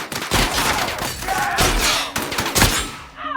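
Several loud, booming shotgun blasts ring out in The Outer Worlds video game, spaced irregularly with heavy thuds and clattering combat effects between them, ending on a brief metallic ring.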